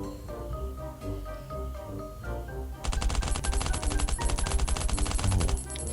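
Automatic gunfire in Last Island of Survival starts as scattered shots over a musical backdrop, then becomes a loud, sustained burst of rapid fire for about three seconds before cutting off.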